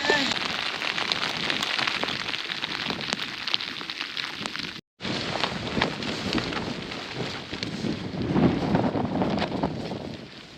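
Rain pattering around someone walking outdoors on the South Downs Way, a dense close hiss with wind buffeting the microphone, steady throughout apart from one very short dropout midway.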